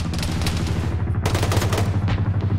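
Arma infantry firefight: rapid overlapping rifle and automatic fire, loud and close, in dense bursts that break off briefly and then resume.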